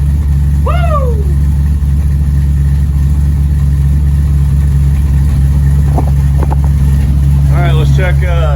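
A car engine with a newly installed Holley Terminator X Max fuel injection idles loudly and steadily at just over 1,000 RPM, a constant low rumble close by while someone talks briefly over it.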